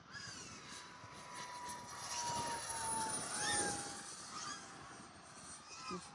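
An Arrows Hobby 50mm EDF RC jet making a full throttle pass, its thin fan whine swelling as it nears, peaking midway, then easing off, moderately loud.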